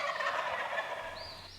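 Wild turkeys gobble loudly and close at their roost in spring woods, a dense overlapping chorus of gobbling calls that fills the whole moment with no talking.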